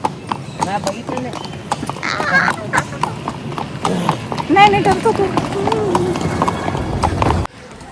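Horse hooves clip-clop steadily during a first-time horse ride at Matheran, close by, with people talking over the rhythmic footfalls throughout.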